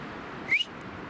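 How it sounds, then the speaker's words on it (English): A single short, rising whistled bird call rings out once overhead in the woods, brief and fairly clear against quiet background ambience. "We got birds right on top of me."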